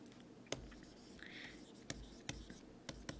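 Pen or pencil writing out notes for a chemistry lesson on pH and significant digits, a quiet scratchy stroking with a few sharp taps, close and faint, with no talk.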